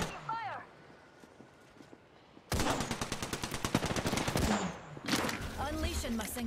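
Rapid automatic gunfire in the shooter game Apex Legends bursts out loud and sustained for a couple of seconds after a quieter stretch, with a voice speaking around it.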